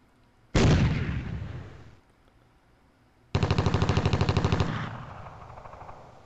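Machine gun fire from the WinSPMBT war game, Greece versus Turkey battle: a loud sustained burst, a short pause, then a second rapid rattling burst of evenly spaced shots that ends in a fading echo.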